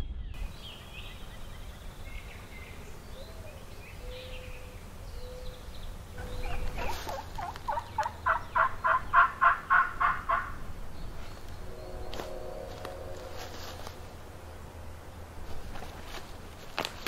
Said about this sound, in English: one gobbled back here pretty far away